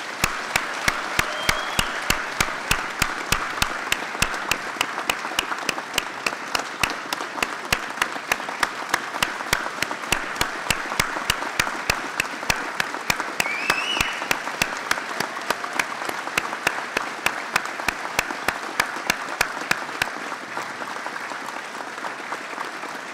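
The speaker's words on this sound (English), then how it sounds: "Please join me in a round of applause for all of tonight's award recipients." Sustained, loud applause from an audience at a police department award ceremony honors the recipients, with crisp, dense clapping lasting about twenty seconds before thinning out at the end.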